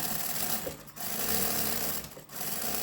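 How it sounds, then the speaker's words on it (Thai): A sewing machine stitches an apron at home, running in steady close-up bursts with two brief pauses. "อยู่บ้านเย็บผ้ากันเปื้อนนะจ้า"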